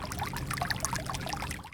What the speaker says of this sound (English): water pours out of a broken irrigation system